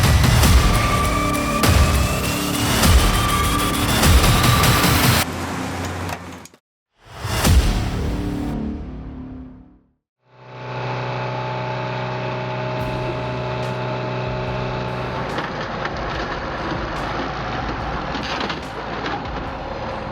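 A John Deere 644C loader of roughly 150 hp shoves 1965 Mustangs into an old-school hydraulic car crusher. Loud engine roar and whining hydraulics break off in abrupt cuts, then settle into a steady mechanical drone.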